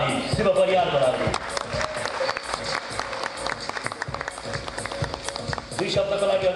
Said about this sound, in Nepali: जोरदार र लगातार ताली शिव परियारको लागि।